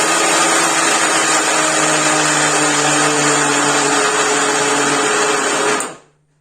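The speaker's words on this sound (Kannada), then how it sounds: "ಇವಾಗ ಮಿಕ್ಸಿ ಹಾಕೊಳಕತ್ತೇನ್ರಿ," A mixer grinder runs at full speed grinding roasted peanuts into chutney powder, a loud, steady high-pitched motor whine with gritty rattle that winds down abruptly near the end.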